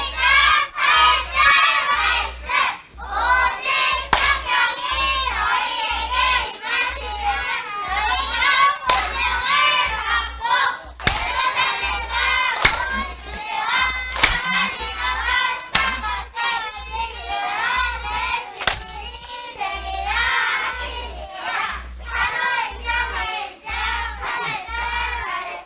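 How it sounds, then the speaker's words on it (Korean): Elementary Sunday school children in a church clap in a steady, rapid rhythm for about 25 seconds, with lively young voices shouting and chanting throughout. "잘했다는 박수로"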